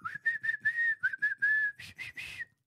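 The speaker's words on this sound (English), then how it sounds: "He's standing there whistling badly." Someone whistles a wobbly, uneven tune in short breathy bursts, pitch wavering and notes breaking, close and fairly quiet.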